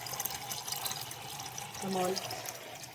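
Tap water runs steadily into a container in a home kitchen where bottle gourd is being prepared, a soft continuous stream that swells briefly toward the end, with a voice talking over it.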